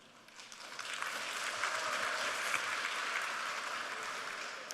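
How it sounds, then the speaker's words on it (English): An audience at a technology conference presentation breaks into broad, steady applause that swells and holds as a dense wash of clapping with no talk over it. "So if this works, I want applause."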